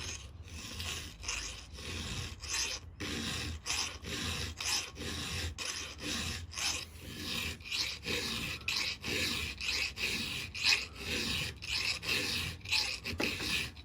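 A .404 semi-chisel chainsaw chain held in a jig is sharpened by hand with a file, giving steady rhythmic rasping strokes roughly every half second, close up and alone.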